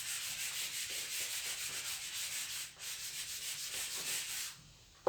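A board is rubbed clean of written values with an eraser, a continuous scratchy back-and-forth scrubbing in quick strokes, close and fairly quiet, with a brief pause midway and a knock at the end.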